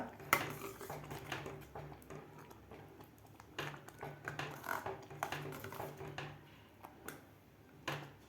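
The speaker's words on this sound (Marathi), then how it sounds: "आता आपल्याला हे व्यवस्थित मिक्स करून घ्यायचं आहे" A spoon scraping and clinking against a pot while wheat kheer is mixed for a festival offering, irregular metallic taps and scrapes repeating steadily throughout, fairly close and moderately quiet.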